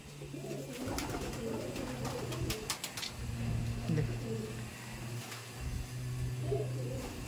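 Chennai Madrasi pigeons coo in a loft, soft repeated throaty calls in low bursts across the stretch, with clicks and shuffling sounds and faint background noise.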